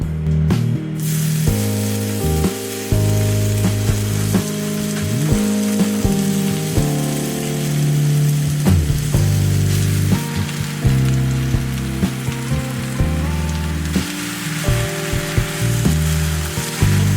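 Spinach wilting in a hot pan for a meal-kit dinner gives a steady, loud sizzle and hiss that runs unbroken throughout, with low kitchen rumble and tonal hum beneath and no talking.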